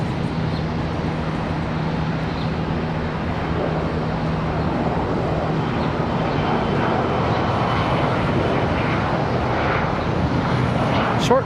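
An airliner departing Charlotte Douglas International Airport gives off a steady, broadband engine roar at a moderate distance, sustained and alone without talk.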